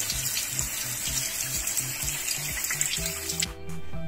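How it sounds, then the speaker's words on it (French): Tap water streams steadily into a sink through an Eva fountain filter cartridge, a continuous close hiss and splash with a low rhythmic pulsing underneath that turns smoother near the end. "mettre la cartouche sous le robinet pour finir de la purger"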